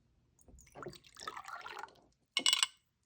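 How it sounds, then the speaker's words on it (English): Vinegar pours into a beaker in a kids' volcano experiment, a soft close trickle of liquid followed by a brief splashy burst at the end, with no voices. "I'm just gonna pour it in."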